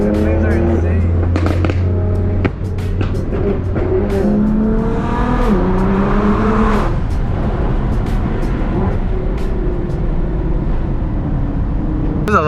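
700-horsepower Nissan GTR with loud exhaust on a canyon drive, engine droning and rising through gear shifts in a steady, loud roar from inside the car, with crackles and talk over it.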